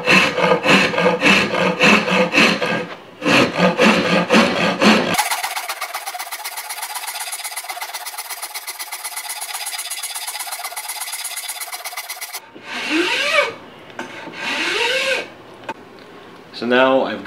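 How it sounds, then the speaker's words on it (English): Coarse wood rasp filing a rifle cheek rest for a Mosin Nagant PU sniper build, rough scraping strokes in a steady rhythm, close and loud, with someone talking before and after the rasping. "Now I'm going to start with a really aggressive rasp."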